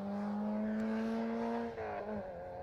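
A Peugeot 205 GTI rally car passes on an asphalt club rally stage, its engine holding a steady, strong tone before the pitch drops sharply as it goes by, heard at moderate distance with no talk.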